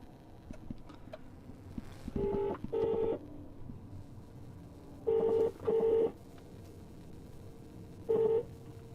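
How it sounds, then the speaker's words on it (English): A call rings out through an Android car head unit in a Ford Fiesta ST, with five short ringback tones in pairs and singles over a low cabin hum and no talk. "I'm making a phone call."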